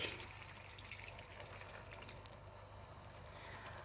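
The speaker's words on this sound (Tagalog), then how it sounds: "so, lagyan na natin ng tubig" Water poured into a pot of rice before cooking, a faint, continuous trickle and slosh heard alone at low level throughout.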